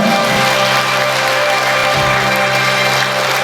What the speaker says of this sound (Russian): Аплодисменты зрительского зала.